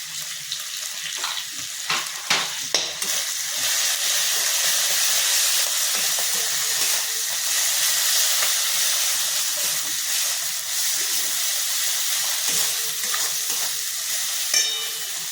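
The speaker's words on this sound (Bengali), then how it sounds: "এগুলো দিয়ে আমি ভালো করে মশলাটা কষিয়ে নিচ্ছি" Chili paste and tomato masala fry with a loud, steady sizzle in a pan, broken by occasional scraping stirs, close up with no talking.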